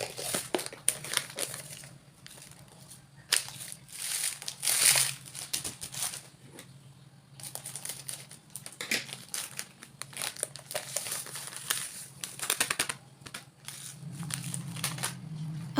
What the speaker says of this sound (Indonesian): aku mau sambil refill garam dapur aku karena habis stokannya